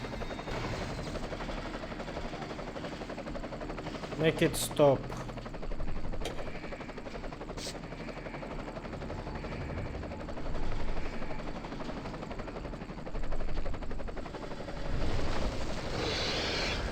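Helicopter flies in The Suffering: Ties That Bind as a steady, loud rotor drone throughout, with bursts of gunfire and someone speaking briefly over it.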